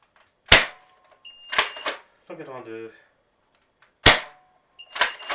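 A HPG-700 gel blaster fires Orbeez gel balls stored for three months in a bottle, sharp single cracks spaced apart with a quick double shot, and someone speaks briefly between shots.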